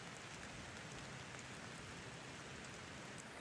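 Rain falling on a farm, a dense, even hiss of steady rainfall on surfaces, continuous and moderately close with no talk.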